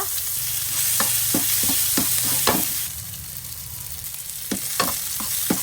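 Plant-based vegetarian beef stick sautéing in a pan, with a steady sizzle and several sharp scraping stir strokes that come in bursts, loud and close, with no talking.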